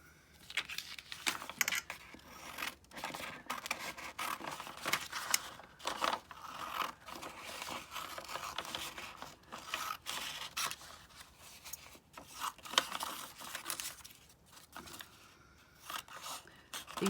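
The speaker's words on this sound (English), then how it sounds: "then I'm going to cut these out. Oops, not with those scissors." Scissors snipping out paper pieces for a grungy field journal, a close, steady run of crisp cuts and paper rustles with occasional scrapes and crunches, no voices.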